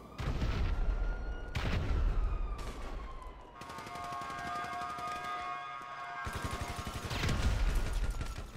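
Gunfire and explosion-like bursts in GTA V, a grenade among them, with rapid crackling shots and a steady siren-like tone running through a busy, loud mix.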